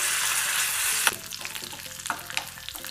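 Curry leaves and mint frying in hot oil until crispy, a steady bright sizzle with a sharp crackle and a few stirring clatters, close and continuous with no voices.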